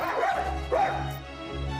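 A pet dog at a family-run restaurant gives two short, sharp barks with yippy edges, fairly close, over a low steady hum with no talking.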